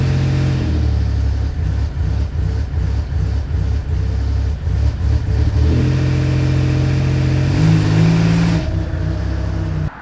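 A car engine with a misfire from a failing coil pack runs rough, a loud, close drone with an uneven stumbling pulse and shifting pitch as it is held at raised revs.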